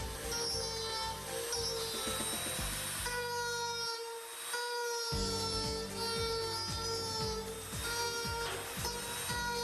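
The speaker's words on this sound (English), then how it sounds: "Use a rotary tool with a teardrop-shaped cutting bit to grind away excess plastic" A rotary tool fitted with a teardrop-shaped cutting bit grinds away excess plastic during a plastic repair, a steady high-pitched whine with repeated grinding bursts and a brief pause midway.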